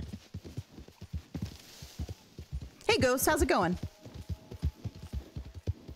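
Horse hooves clip-clop steadily in Red Dead Online, a close, rhythmic patter running beneath a person talking, with one brief louder tonal burst midway.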